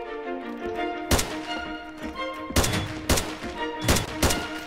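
Heavy gunfire in the video game Fallen, loud repeated bursts of shots with sharp cracks, firing in clusters over a steady background rumble, no talk.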